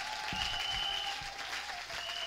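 Church congregation clapping in praise of God, a steady, fairly faint wash of applause with a faint sustained tone running through it.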